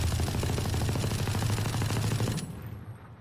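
Sustained automatic gunfire in VALORANT from a crouched, stationary position, a dense rapid stream of shots holding steady for over two seconds before cutting off into a fading tail.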